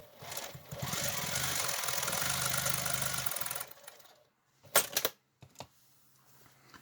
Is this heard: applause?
no